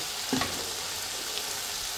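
Fried eggplant pieces go into a simmering sauce in a pan while cooking shahi begun, giving a steady soft sizzle with a brief splash-like burst near the start, no talking.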